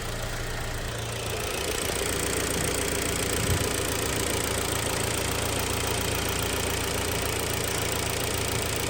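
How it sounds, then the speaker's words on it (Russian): A badly worn car engine with scored bearings and spun crank shells runs at idle, knocking hard in a steady, close, continuous rattle with no voices. "сейчас сниму, как работает мотор без петлички"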